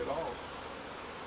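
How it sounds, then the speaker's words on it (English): Angry honeybees buzz in a dense, steady hum while stinging a glove during hive work, the swarm close and fairly loud, strongest at the start and continuing without a break. "here is what happens when unhappy bees"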